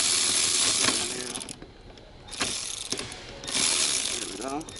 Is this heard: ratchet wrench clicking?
yes